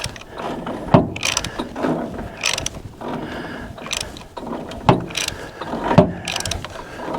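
Mechanical clicking and ratcheting from the starter area of an M151A1 jeep engine, with several sharp knocks and short grinding bursts repeating at irregular intervals over steady background noise.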